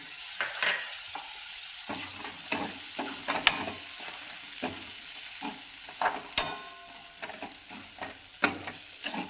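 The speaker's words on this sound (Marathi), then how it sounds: "हे टोमॅटो धुतलेले तर हे याच्यामध्ये टाकून द्यायचं" Washed tomatoes are tipped into masala frying in oil, followed by a soft sizzle and repeated scraping, clinking strokes of a spoon stirring in the pan.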